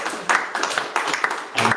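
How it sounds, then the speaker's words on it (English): Light, scattered applause from a small audience at a neighborhood association meeting, a few uneven bursts of clapping with no talking. "Applause is great too"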